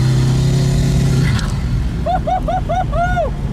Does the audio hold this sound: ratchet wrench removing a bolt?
no